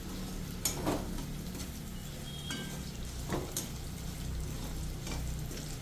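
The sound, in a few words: tofu being sautéed with butter in a pan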